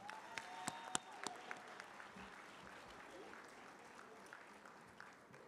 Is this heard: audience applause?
yes